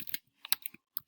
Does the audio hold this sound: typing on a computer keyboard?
yes